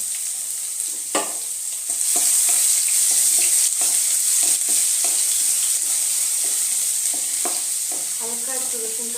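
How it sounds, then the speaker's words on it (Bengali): Crushed garlic and dried red chilli fry in hot oil with a bright, constant sizzle. Light stirring scrapes and taps from a spatula come close by at irregular moments. "হালকা একটু রসুনটা ফ্রাই করে নেব"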